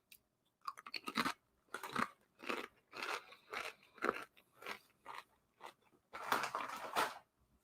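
Close, loud crunching of tortilla-style chips with dip, a series of about ten distinct bites and chews in uneven rhythm, with no talking.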